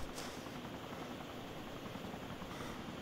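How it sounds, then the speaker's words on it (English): Helicopter in the video game DayZ, a steady broadband rotor and engine drone holding at an even level throughout, with no talk over it. "there's a helicopter down there"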